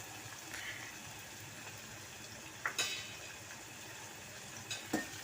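Chicken curry sizzles in a pan as it is stirred, a steady soft frying hiss broken by a few sharp clinks of the spoon against the pan.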